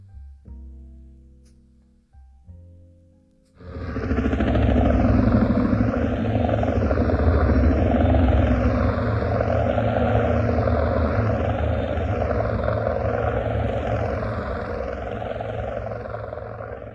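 Aircraft engines drone steadily in flight, a loud, continuous hum with a slowly wavering pitch that starts abruptly after a few seconds of quieter sound.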